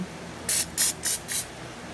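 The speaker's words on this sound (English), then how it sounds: "I'm gonna spray a little spray on it" Four quick hissing bursts of an aerosol cooking oil spray onto chicken in an Instant Vortex air fryer, evenly spaced and close up.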